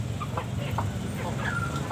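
Village chickens cluck and chatter close by at a market stall amid a low, busy background hum, with short repeated calls overlapping.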